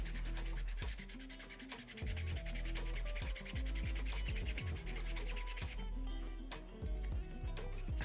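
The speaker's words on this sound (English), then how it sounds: "the wet sand is working pretty good" Steady rhythmic rubbing of wet sandpaper on a Mandalorian costume glove part, a close, continuous scratchy back-and-forth stroking that pauses briefly and resumes, with no talking.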